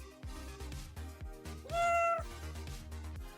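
A pet cat held in someone's arms gives one loud, drawn-out meow over a steady thumping music beat.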